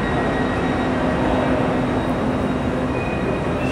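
A train pulls into a busy station in Scotland before a journey to London, producing a loud, steady rumbling roar with a faint sustained whine running through it and no talk.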